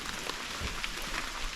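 Rain falls steadily in a forest, a soft, even patter on leaves and ground that holds throughout with no voices over it.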